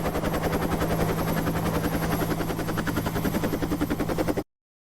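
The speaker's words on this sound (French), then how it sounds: "C'est un bruit d'hélicoptère" A rapid, rhythmic chopping whirr of a helicopter, loud and close, pulsing steadily for a few seconds before cutting off abruptly.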